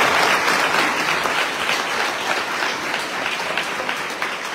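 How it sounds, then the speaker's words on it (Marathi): Around a thousand students at a school gathering break into sustained, loud applause, a dense wash of clapping that holds steady from start to finish with little variation. "इथल्या आपल्या 1000 विद्यार्थ्यांच्या टाळ्या ऐकल्यानंतर माझं मन खरोखरच प्रफुल्लित झालं"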